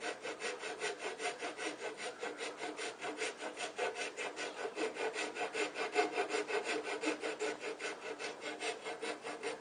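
A rasp works a wooden stake-out pole for a kayak down to a point, making close, rhythmic scraping strokes at a steady back-and-forth pace, fairly quiet, with no voices.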